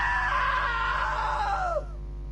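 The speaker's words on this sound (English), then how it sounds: "Now that was a great scream." A long scream from a character in the video game What Remains of Edith Finch comes in loud and close. It holds a sustained wavering cry that bends downward and cuts off sharply, leaving a low background hum.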